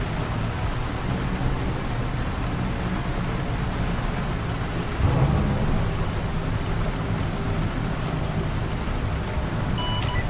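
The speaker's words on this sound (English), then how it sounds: "It looks like this torrential rain's going to keep up for maybe another 30-45 minutes" Torrential rain pours steadily through the whole stretch inside a video game, a dense broadband hiss with a brief low rumble midway that could be thunder, and no one talks.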